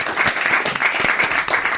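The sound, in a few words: studio audience applause and cheering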